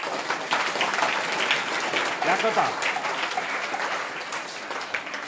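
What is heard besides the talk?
applause, students clapping loudly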